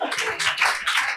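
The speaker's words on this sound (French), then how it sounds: "Merci, applaudissez pour" Audience clapping in a few quick, uneven bursts, a small group of hands nearby, brief and fairly loud.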